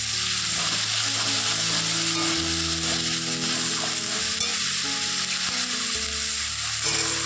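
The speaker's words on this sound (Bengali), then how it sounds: "একবারে কড়াইতে মশলা করে আর মটরটাকে একটু কষিয়ে তারপর দিয়ে দেবো প্রেসারে।" Spices and peas frying in a kadai, a steady loud sizzle with stirring throughout, close and continuous with no voices.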